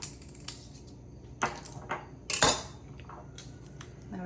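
A new container of ground cumin is opened in a kitchen: a few sharp clicks and crinkling snaps of the lid and seal, with one louder crack near the middle, over a quiet background and no talk.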